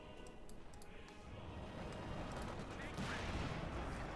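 Machine gun fire in Company of Heroes 2, a World War II strategy game, heard as rapid, fairly faint bursts of rattling shots mixed into a dense battlefield din of explosions and rumble across the whole stretch.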